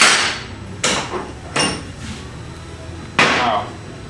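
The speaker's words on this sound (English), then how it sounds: "Big wrench. Tighten up the ring up to the lock washer." Sharp metallic strikes ring out from a big wrench tightening a ring against a lock washer on an oilfield pulling tool: four loud, separate hits spaced about a second apart, each with a short fading ring.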